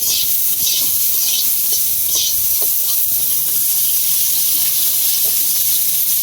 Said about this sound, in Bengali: শুকনা মরিচ আর পেঁয়াজ বাজ্যা লইতেছে